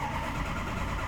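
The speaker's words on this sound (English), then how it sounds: "So it's got a good crisp startup. Revs up really nice." A Ford F550 picker truck's diesel engine, with its EGR system deleted, running steadily right after startup: a loud, close, continuous low rumble with no speech over it.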